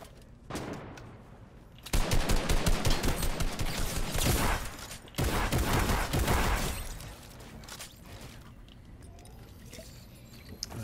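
Bursts of automatic gunfire in a solo-mode shooter video game, a short shot early and then two long, loud sustained volleys separated by a brief gap, trailing off into quieter ambience.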